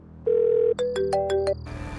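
A phone ringtone plays a short electronic melody of bright tones, loud and close, with no talking.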